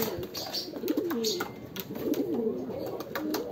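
Pigeons coo softly in repeated low, warbling phrases, close by, with faint chirps and light background noise around them.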